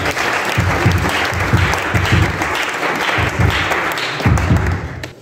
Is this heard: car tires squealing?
no